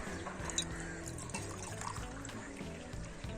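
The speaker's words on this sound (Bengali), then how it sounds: "আমরা দেখো ঝর্ণা দিয়ে জল নেব।" Water from a toy fountain in a children's play kitchen, a faint, continuous thin trickle with small splashy ticks, quiet and close, with no voices.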